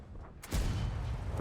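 A single heavy cannon blast from a T29 tank in a tank video game booms suddenly after a quiet moment, followed by a rumbling low tail that carries on to the end.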